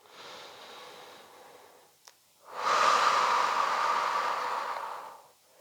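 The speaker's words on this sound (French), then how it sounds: "Inspire le retour." A long, loud, breathy inhale through the nose or mouth, taken during a single leg stretch in a Pilates foam roller workout. It follows a softer exhale and a small click, lasts about two and a half seconds, and is heard close up.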